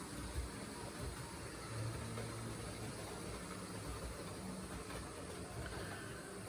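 A heavy, nearly all-metal Hornby model locomotive runs steadily along its track, a continuous low rumble with faint rail clatter, fairly quiet and alone with no talk.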